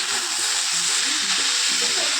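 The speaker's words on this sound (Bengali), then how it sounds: "দিয়ে ভালো করে নাড়িয়ে নিলাম।" Chow mein noodles stirred through fried potato, onion and tomato in a hot pan, a steady loud sizzle running throughout with soft irregular scraping and tossing movements layered on top.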